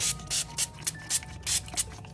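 Distress Oxide spray is pumped onto a damp creeper cloth in a rapid series of short, sharp spritzes, close to the microphone, with brief pauses between bursts.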